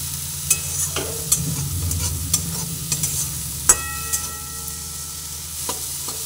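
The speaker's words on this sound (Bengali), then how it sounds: "নুনটা দেওয়ার পরে আবার ভালোভাবে নাড়াচাড়া করে ভেজে নিচ্ছি।" Shrimp stuffing being stirred and fried with salt in a pan, with steady scraping strokes and occasional sharp utensil clicks over a low, continuous sizzle; no one speaks.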